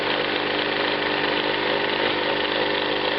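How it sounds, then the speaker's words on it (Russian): An electric motor spins up on alternating current once a capacitor bank is wired in parallel, producing a loud, steady, unbroken whir and buzz with no talk over it. "Двигатель начал вращаться"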